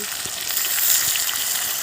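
Potatoes and onions frying in a pan make a dense, steady sizzle, close and fairly loud, with faint stirring taps underneath.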